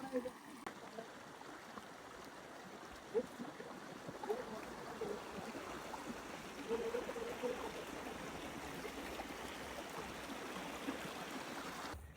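Steady, soft rush of flowing river water, continuous and fairly distant, with faint splashes and scattered small sounds over it.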